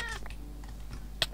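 A cat in the video game Minecraft gives a short meow at the start, followed by a few faint clicks and one sharp tap, all quiet and brief with no voices.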